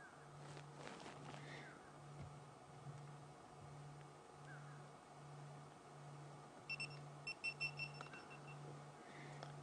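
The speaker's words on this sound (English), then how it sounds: "have you heard that little beep, beep, beep, beep, beep?" A faint, quick series of electronic beeps sounds late on, over a low steady hum and quiet background.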